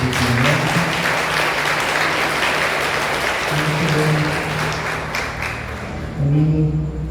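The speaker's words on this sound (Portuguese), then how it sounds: "Uma salva de palmas para o nosso pastor" At an evening Mass for the feast of São João Batista, the congregation gives the pastor a long, loud round of applause, a thick wash of clapping with sustained tones from music or voices running beneath it.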